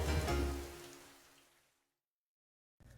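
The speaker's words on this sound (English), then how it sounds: "and God sent rain." Steady rain patters in a children's Bible story, a dense hiss that starts fairly loud and fades away to silence within about two seconds, followed by a short quiet gap and a faint new sound at the end.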